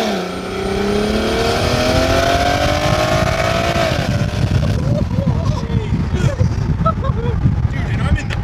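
A very powerful car accelerating hard while cruising with friends, its engine note rising loudly through the gears, heard from inside the cabin, then settling into a rough, loud drone with some voices talking over it.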